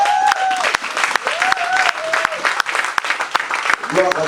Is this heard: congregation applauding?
yes